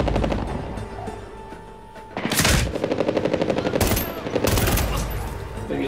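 Bursts of automatic gunfire in a Medal of Honor: Warfighter campaign firefight, loud rapid volleys starting around two seconds in and repeating in several dense clusters over a steady battle background, with no talk.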